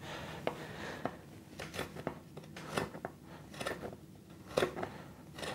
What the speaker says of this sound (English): I'll make kind of a slicing cut at the same time, just by rocking the hand from side to side.